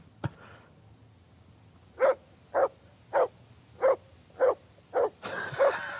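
A dog named Mutt barks on command in Kingdom Come: Deliverance II, seven evenly spaced single barks at moderate distance after a brief thump, with a rustle at the end.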